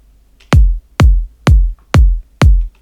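Layered kick drum and hi-hat samples from an electronic remix production play together as five evenly spaced, punchy hits with deep booming low ends and short bright tops, loud and alone.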